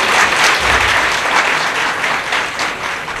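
A crowd at a political rally breaks into loud, sustained applause, with dense, even clapping filling the whole stretch and no speech over it.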